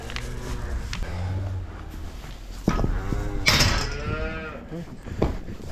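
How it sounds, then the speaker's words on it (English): A cow in a full barn on a cold day lets out several deep, drawn-out moos close by, rising and falling with short pauses between calls, with other cattle faintly audible and no talking. "Crazy cow."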